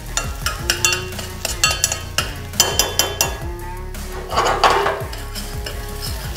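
Steak stir fry with garlic sautéing on a hot Halo Elite4B griddle, a loud sizzle broken by rhythmic metal spatula scrapes and clinks, with no talking.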